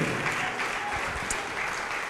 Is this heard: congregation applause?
yes